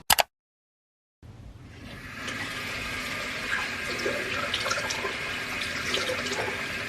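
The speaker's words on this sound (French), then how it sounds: "nous allons se rendre tout de suite dans ma salle de bain afin de se tremper le visage d'eau gelée" Ice-cold water runs into a bathroom sink for splashing the face. A brief knock comes first, then near silence, then the tap opens into a steady, close rush of flowing and splashing water.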